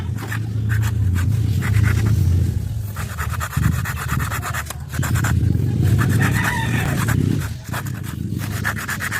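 A hand saw cuts through a wooden handle with steady, repeated rasping strokes, close and fairly loud, with a couple of brief pauses between runs of sawing.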